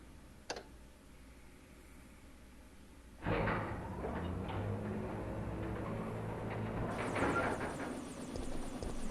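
A helicopter in the video game Resident Evil 3 rises into a loud, steady rotor roar after a sharp click, continuing without letup.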